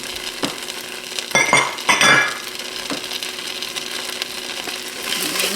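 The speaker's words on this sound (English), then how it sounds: "Mix that up real quick." A utensil stirs Thai shrimp soup with curry paste in a pot, giving a few sharp clinks and scrapes against the metal, close and moderately loud, then settling into a soft bubbling simmer.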